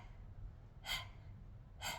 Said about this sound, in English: And as you're learning, you start breathing out the mouth.